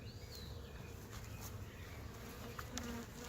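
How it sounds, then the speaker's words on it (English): Honeybees at a beekeeper's hive buzz steadily and softly outdoors, a continuous hum with individual bees passing close by. "there's a bee there"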